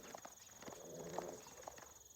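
Horse hooves in the Age of Empires 4 video game, a mounted axe-wielding unit advancing: faint, uneven clip-clop steps under a busy battle background, with faint talk.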